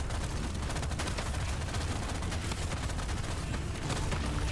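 Grenade explosions from the video game Deep Rock Galactic Survivors form a dense, continuous barrage of loud bursts and crackling blasts with no pauses, with no voices over it.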